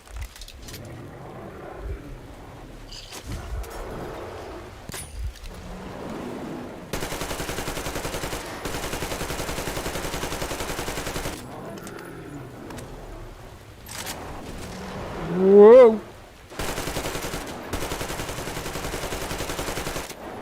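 Rapid bursts of automatic gunfire in a video game as a magazine is emptied, sustained stretches of dense crackling shots separated by quieter pauses and a brief louder moment.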